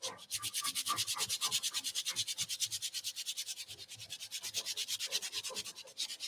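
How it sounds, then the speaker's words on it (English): Sandpaper rubbed briskly back and forth over an IOD transfer on a vintage dresser, a steady rhythmic scratching of quick even strokes, close and alone for about six seconds. "This lays down really flat, but if you go over it with sandpaper,"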